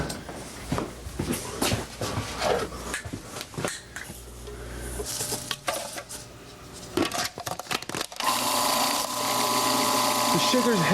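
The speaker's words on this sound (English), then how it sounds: "I'm going to use some sugar to chop it up." Sugar grinding fresh cilantro, with lime leaf added, as a Thai dish is prepared; rough, rapid scraping and crunching bursts come and go, then a steadier, louder grinding takes over near the end, with a voice talking throughout.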